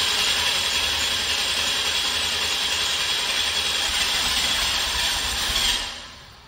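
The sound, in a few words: 1986 Oldsmobile 98 Regency Brougham engine cranking, first start after injector change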